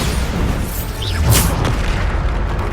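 Bombarda spell blast in Hogwarts Legacy, a single loud booming burst near the middle over dense, continuous combat noise with a deep low rumble.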